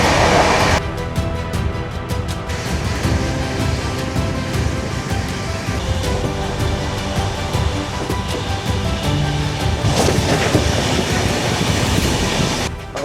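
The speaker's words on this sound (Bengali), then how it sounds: "আমাদের ট্রেন এখন শিয়ালদা ঢুকছে।" Padatik Express (train 12378) running fast on rails toward Sealdah, a loud, continuous rumble with steady clickety-clack and rushing wind noise heard close from inside the moving train, with no talking.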